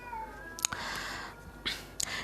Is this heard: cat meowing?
yes